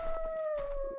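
A wolf howls in a video game, one long sustained tonal note with a slight downward drift and harmonics above it, loud and close, holding steadily for about a second over faint background game ambience.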